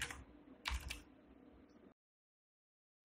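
Quick keystrokes on a computer keyboard, a short burst of clicks over about two seconds, close and quiet, then silence.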